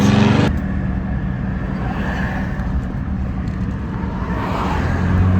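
Road traffic in Blacksburg, Virginia, near a Taco Bell, with a steady drone of cars going by at moderate distance, continuous and fairly loud throughout, with no speech.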